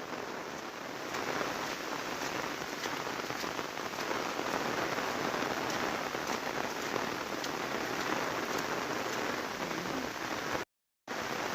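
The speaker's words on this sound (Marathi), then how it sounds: "बघा आता पाऊस पण वाढला" Steady, dense rain pouring down and pattering on surfaces in rural Konkan, even and continuous throughout, with a brief gap of silence near the end.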